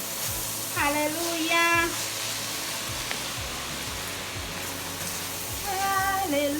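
Keto cauliflower fried rice stirred in a pan gives off a steady sizzle with scraping strokes, while loud singing and a voice ring out over the top.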